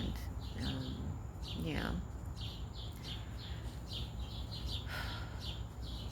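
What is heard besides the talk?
birds singing in a backyard with cherry and maple trees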